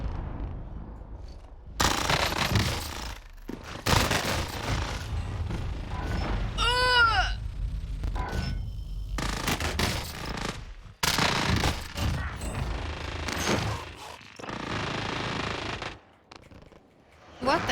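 Rapid SMG gunfire in a video game, loud sustained bursts of automatic fire broken by short pauses, with other game effects mixed in, including a brief rising electronic tone in the middle.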